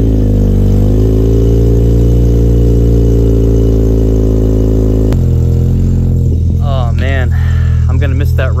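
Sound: car engine startup with full race exhaust

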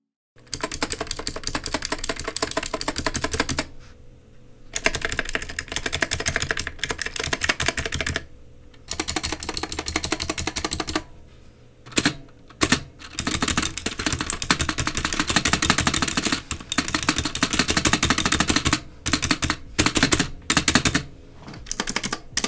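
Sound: Magegee MK Star mechanical keyboard typing sound test, clicky switches

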